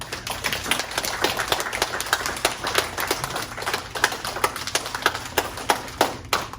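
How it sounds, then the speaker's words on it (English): Applause for a group at a kung fu school, sparse claps rising into a brisk, rhythmic patter of hands from a small gathering, close and clear with no talk over it. "Let's have a round of applause for everyone."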